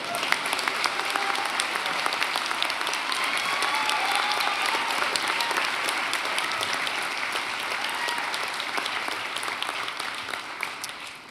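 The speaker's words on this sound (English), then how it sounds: "So everyone please give a warm ovation to MCAD's MA class of 2018." A large audience at a college commencement ceremony applauds the graduating MA class, a steady, dense wash of clapping that holds evenly for several seconds before slowly tapering, with no talk over it.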